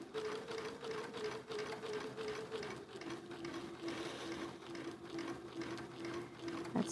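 A sewing machine stitches a quilt, a steady close rapid mechanical chatter with a whining motor tone that shifts slightly in pitch midway, running continuously without talk.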